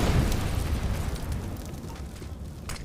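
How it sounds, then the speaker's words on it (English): A grenade explodes in Counter-Strike during a DreamHack Open Rotterdam 2019 match on Inferno, giving a heavy, rumbling low boom at the start that tails off into a sustained roar over the rest of the moment. "Decent nade damage again."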